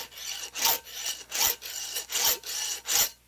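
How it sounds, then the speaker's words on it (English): A file rasps across a chainsaw chain in steady, even sharpening strokes, about one per half second, close and fairly loud, with no talking. "I guess I get back to sharpening a chainsaw"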